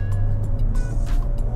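A Mazda CX-3 with a 1.5-litre engine is revved briefly while driving, giving a short, moderate engine rumble mixed with road noise inside the car.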